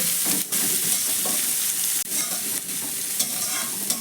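Chopped onion fries in a pan with a loud, close sizzle while a utensil stirs and scrapes it in a few distinct strokes, no voices over the cooking.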